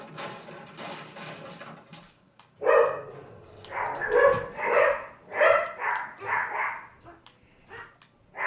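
A pet dog barks repeatedly inside a home, with a series of loud, close yaps and barks at a fairly steady rhythm. Faint background voices can be heard under the barking.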